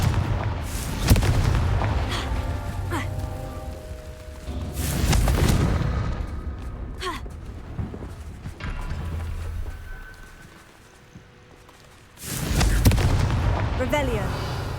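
Repeated Confringo blasting spells explode in Hogwarts Legacy, heavy booming impacts arriving in several bursts with rumbling decay between them, mixed with game sound effects and a voice casting the spells.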